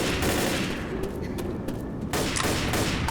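Heavy gunfire blasts at a barricade in Left 4 Dead. A loud, sustained fusillade of shots runs without pause, dipping briefly in the middle before surging again.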